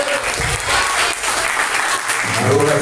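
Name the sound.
applause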